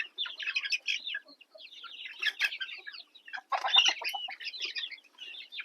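About fifty native village-breed chicks chirp and peep together continuously, a busy high-pitched chorus of overlapping cheeps close by with no talking.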